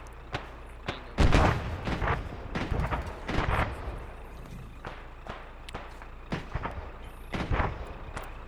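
A fragmentation grenade detonates during an airsoft or milsim operation, giving one loud sharp blast among a scatter of distant pops and bangs, sharp cracks recurring throughout outdoors.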